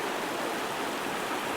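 Eagle Creek's water flows in a steady, full broadband rush along a desert hiking route, close and continuous with no voices.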